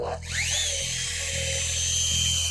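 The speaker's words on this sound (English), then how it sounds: "we're going to do this with a rotary because it's so easy to use" A rotary polisher set to about 1,000 RPM buffs car paint with a correction glaze. It spins up with a rising whine, then holds a steady, loud, close mechanical drone with a rhythmic low pulsing and no talk.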